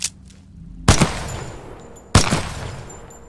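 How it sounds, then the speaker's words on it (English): Two loud, close weapon shots from Titanfall 2 at a shooting range, each a sharp blast followed by a short rolling tail, the second about a second and a quarter after the first. "Time to hit the range. Load your weapon."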